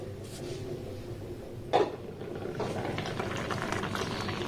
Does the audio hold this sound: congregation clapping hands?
no